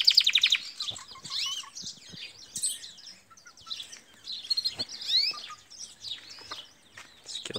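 Belgian canaries and siskins sing in a cage, with bright, rapid chirps, trills and twittering phrases in close, intermittent bursts over a quiet background.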